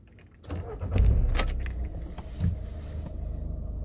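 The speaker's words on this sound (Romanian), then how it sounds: "Îi luăm contactul îl punem din nou contactul și pornim." A VW Polo 9N engine cranks and starts after the ignition is switched on, opening with key and dashboard clicks, then a brief starter whir and the engine settling into a steady idle close by.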